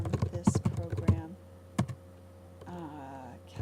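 Quick clicks of computer keyboard typing come close in a short burst, then isolated keystrokes, followed by a voice talking.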